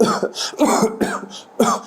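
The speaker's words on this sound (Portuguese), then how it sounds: "estimular a tosse, pedir para o paciente tossir mais" Several harsh, close coughs come in quick bursts with short gaps between them, loud and raspy, with no talking.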